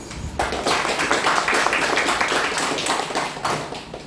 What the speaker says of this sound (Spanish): al cual recibimos con un voto de aplauso